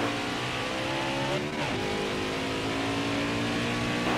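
A race car in the video game Nascar Heat 5 accelerates hard out of the pits, its engine roaring loudly and rising in pitch through the gears.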